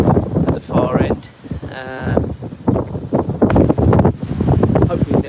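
Gusty wind buffets the microphone on the open deck of the P&O Britannia cruise ship, rough low roaring bursts rising and falling, with a person talking over it.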